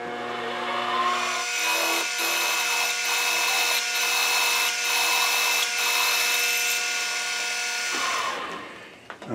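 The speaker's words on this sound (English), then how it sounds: "I'm drilling for the flange first before I try and do a bend." A drill bores holes for a flange in a metal workshop with a loud, steady high-pitched whine. Brief dips in pitch recur as the bit bites, and it winds down near the end, with no talking.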